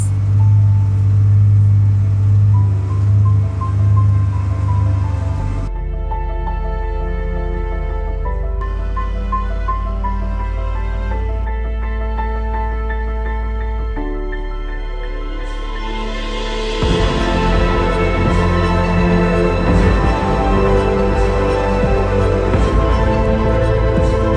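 A 4x4 off-road vehicle starts climbing a steep, narrow dirt track in Utah, its engine a loud, close, steady drone that shifts in pitch as gears change, rumbling continuously with no talk.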